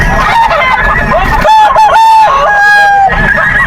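An early bird gold gamecock crows loudly and close by, one drawn-out call with a wavering pitch, at a market sale. Chatter and background noise carry on underneath.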